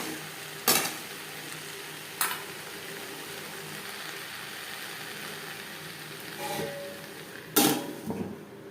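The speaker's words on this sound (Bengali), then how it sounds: "আরও 3-4 মিনিট নাড়াচাড়া করে নেওয়ার পর সবশেষে গ্যাসের ফ্লেমটাকে বন্ধ করে দেব।" Sliced snake gourd frying with onions and no spices in a pan, stirred with a utensil; a low sizzle runs under several sharp scraping clatters, spaced irregularly and close by.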